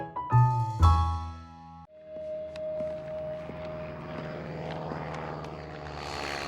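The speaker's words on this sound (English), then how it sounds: "It's not every day that a monkey sees a plane writing words in the sky." A cartoon propeller plane drones overhead while skywriting words in the sky. Its engine hums steadily at a moderate level after a burst of musical notes and thumps, and the pitch shifts slightly as it passes.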